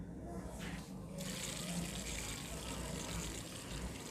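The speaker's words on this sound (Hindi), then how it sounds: "अभी इसको हम पानी देंगे।" Water pours from a can onto freshly sown roselle (hibiscus sabdariffa) seeds in a pot, a steady close splashing rush lasting a few seconds without speech.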